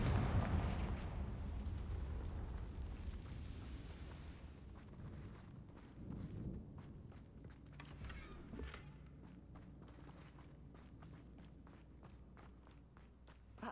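Confringo fire spell blasts in Hogwarts Legacy, with a heavy booming explosion at the start, then a rolling rumble and scattered crackling impacts that fade to a quieter background.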